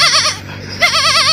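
A human voice imitates a goat, giving two bursts of wavering, vibrato bleats separated by a short pause, loud and close.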